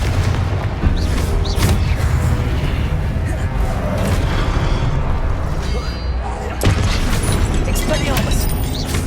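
Blasting spell explosions from the Confringo curse in the wizarding video game Hogwarts Legacy, loud booming bursts amid continuous battle noise, with sharp impacts recurring over several seconds.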